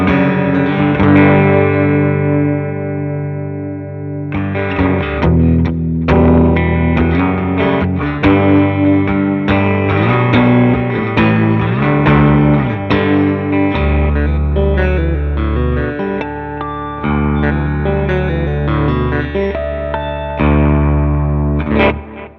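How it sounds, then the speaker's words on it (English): Electric guitar is driven into overdrive through a Black Bobbin boost pedal with the gain pushed up, playing loud, gritty chords and riffs continuously for over twenty seconds with no talking. "I want to show you how this turns into an overdrive."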